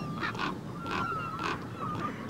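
A group of young common ravens calling in a series of short, hoarse, honking croaks, about five spaced bursts over a soft outdoor background, moderately distant and fairly faint.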